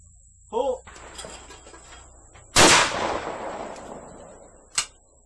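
A single sharp shotgun blast at a five stand clay target fires close and loud, preceded by a short shouted call and followed by another brief crack a couple of seconds later.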